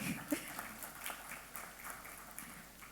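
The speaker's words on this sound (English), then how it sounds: "Keep the applause coming." Steady audience applause fills a hall at a panel discussion on quick commerce, a dense, even patter of many hands clapping continuously at moderate distance with no talk over it.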